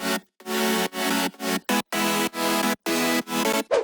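Future house synth chords processed with EQ, OTT compression and distortion, playing as loud, bright, rhythmic stabs separated by brief gaps, with no voices.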